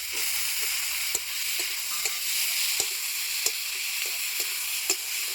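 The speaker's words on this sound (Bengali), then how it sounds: "আদা বাটা, রসুন বাটা, পেঁয়াজ বাটা, কাঁচা লঙ্কা বাটা দিয়ে দিচ্ছি একসাথে। দিয়ে দিচ্ছি টমেটো কুচি।" Ginger, garlic, onion and green chilli pastes with chopped tomato fry in hot oil for a duck egg curry, a steady close sizzle punctuated by regular soft knocks of stirring, no voices.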